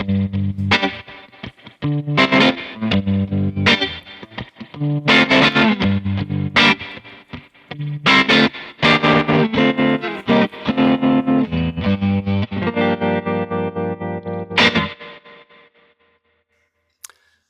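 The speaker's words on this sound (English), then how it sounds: "now you can hear this tremolo effect on the reverb like on the old Fender vintage amps" Electric guitar chords ring out through a Kemper Profiler amp, their reverb tails pulsing with a wavering vintage Fender-style tremolo before fading to silence.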